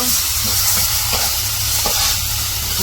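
Small river gulsha fish fry in a pan with ginger-garlic paste, a steady close sizzle with faint stirring scrapes throughout and no voices.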